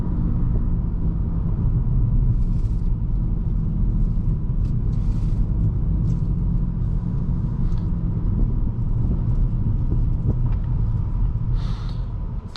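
A 2021 Nissan Altima SR AWD on the move, its engine and road rumble steady and loud throughout, with the CVT's simulated gear shifts showing as quick, snappy changes in pitch and no voices.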